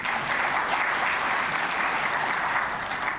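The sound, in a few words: audience applause at the ARIPO session opening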